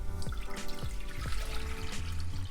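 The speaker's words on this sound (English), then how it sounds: "I'm going to add in my water." Cold water poured into a cooking pot for stovetop white rice, a continuous splashing trickle with gurgling, bubbly pulses, close and fairly loud.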